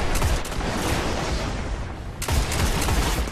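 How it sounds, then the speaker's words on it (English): Dense gunfire fills a match in Destiny: The Taken King's Iron Banner mode, a steady loud barrage of rapid shots with a brief lull before the firing resumes, no voices present. "Ooh, he's shooting at me."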